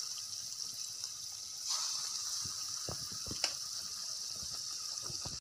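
Sweet bonda deep-fries in hot oil with a steady, close hiss and fine crackle, broken by a few sharper pops and spatters.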